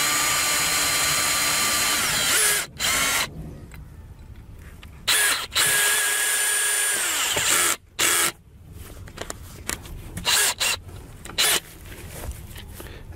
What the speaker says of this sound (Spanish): Voy a abrir un orificio pasante y voy a atornillar con un único tornillo.